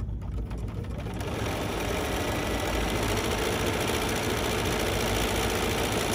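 Bernina sewing machine couching a thread in a curve stitches in a fast, steady, close whirring chatter that starts up within the first second and runs continuously.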